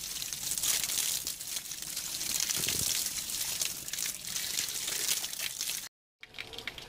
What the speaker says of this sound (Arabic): الماء ديال عين السلطان، الماء ديالها نقي